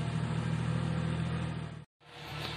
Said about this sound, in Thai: ได้ยินเสียงรถไถ